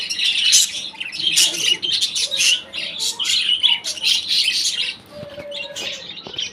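Pet birds chirping in quick, bright bursts, several tweets overlapping at close range with occasional squawks and no speech.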